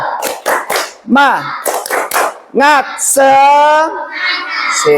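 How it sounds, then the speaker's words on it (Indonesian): A primary-school class does a rhythmic clapping chant: sharp handclaps punctuate a lively voice chanting in a singsong pattern, close and loud, with a rising, drawn-out call near the end. "ayo kita tepuk semangat supaya kalian lebih semangat"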